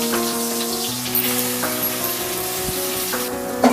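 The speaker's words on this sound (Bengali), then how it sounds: "ভালো করে ভাজা ভাজা করে নেবেন।" Potato pieces frying in oil, being turned in the pan while cooking for a bottle gourd korma, give a steady sizzle over a continuous low tonal hum, close and moderately loud.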